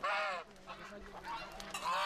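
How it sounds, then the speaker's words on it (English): Geese honking in a sacred grove during a Mari pagan gathering, several loud nasal honks from a close flock, clustered at the start and again at the end. "At first, the grove resonates with goose honks."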